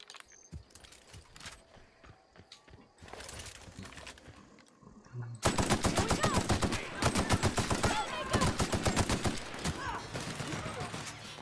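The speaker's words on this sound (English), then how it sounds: "I really like this gun." A gun in The Outer Worlds fires, starting with sparse shots, then breaking into loud rapid automatic bursts with dense, sharp reports that continue to the end.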